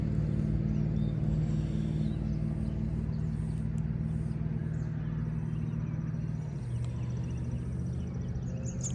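Car with a loud muffler rumbling past a pond, a deep steady engine drone that eases slightly partway through, fairly close.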